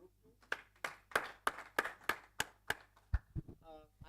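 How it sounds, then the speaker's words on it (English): About nine distinct hand claps in a steady rhythm for Group 2 at a high-level dialogue forum in Uganda, clear and fairly close, tapering into scattered softer claps and a faint voice at the end. "another hand clap for Group"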